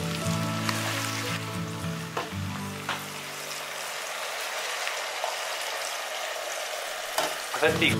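Stock pours into a pan of minestrone vegetables, a tonal splashing pour giving way to a loud, busy sizzle and bubbling, close up with a few stirring clinks.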